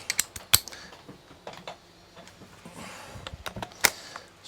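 A socket wrench runs 10mm bolts into a Toro Recycler mower, giving short, sharp ratcheting clicks and metallic taps close by in quiet surroundings.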